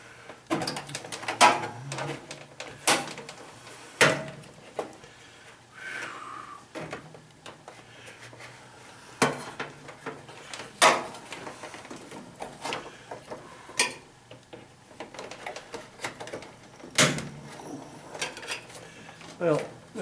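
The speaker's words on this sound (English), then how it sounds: "the door is coming apart pretty well here" Plastic door of an Emerson MW8999RD microwave being pried apart, giving a string of sharp cracks, snaps and clicks at irregular intervals, close up, with quiet rustling and handling noise in between.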